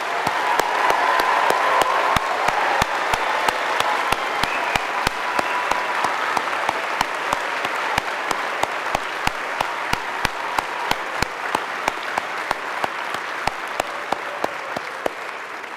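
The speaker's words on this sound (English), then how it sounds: "Please join me in applauding our doctoral graduates." A large audience at a graduate school doctoral hooding ceremony gives loud, sustained applause, a dense wash of clapping that carries on evenly for about sixteen seconds with no talking.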